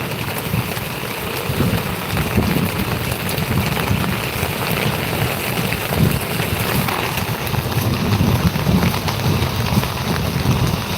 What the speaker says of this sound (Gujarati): ત્યાં વરસાદ આવી ગયો